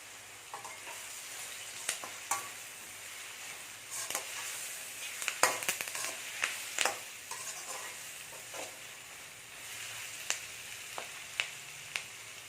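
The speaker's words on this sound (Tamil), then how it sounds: "வெங்காயம் நல்லா வதங்கிடுச்சு." Onions and curry leaves sauté in a pan for a Tamil chicken thokku, a steady sizzle broken by sharp spoon scrapes and clicks against the pan, fairly close and moderately loud with no talking.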